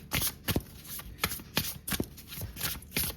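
A deck of oracle cards is shuffled close up in brief rhythmic riffling bursts, soft and papery, repeating several times over a few seconds with no talking.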